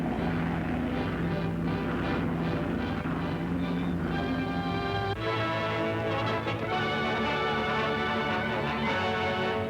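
Propeller engines of a Pan Am China Clipper flying boat drone steadily in flight, a continuous loud hum that shifts in pitch partway through, with music-like tonal layers over it.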